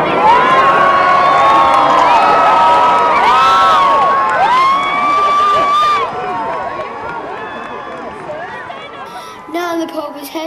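A crowd of children cheers and shouts excitedly as the Pope approaches outside the Birmingham Oratory in Ladywood. High whoops and rising yells overlap continuously, loud and close, thinning out toward the end.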